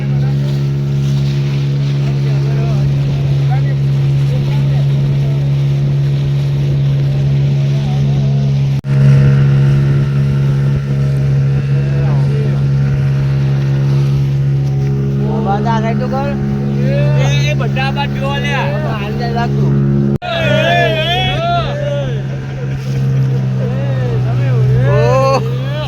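A motorboat cruises on Ram Sarovar lake, its engine a steady, loud low drone throughout, while people talk and call out over it in the later part.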